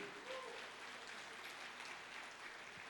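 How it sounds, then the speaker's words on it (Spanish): A church congregation applauds, a continuous faint wash of many hands clapping heard from a distance in a large room. "Dale un aplauso al Espíritu Santo."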